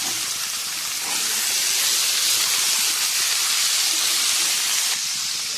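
Pieces of ash gourd dropped into hot oil tempered with nigella seeds and a torn chilli, a loud, continuous hissing sizzle that intensifies after the first second and carries on steadily.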